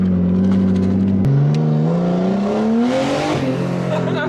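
A rough Nissan R32 Skyline that has sat for four years idles loud and close, then its revs rise and fall in a throaty, uneven drone, with no talking over it.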